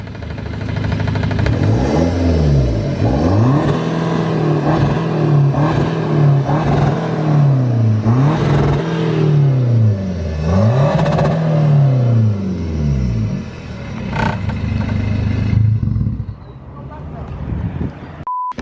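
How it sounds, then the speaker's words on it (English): A car with a straight-pipe quad exhaust revs repeatedly in rising and falling sweeps, loud and close, before settling to idle and a short beep near the end. "It doesn't pop or anything yet, but it is straight pipe, and it is, I don't know what else it is, quad exhaust"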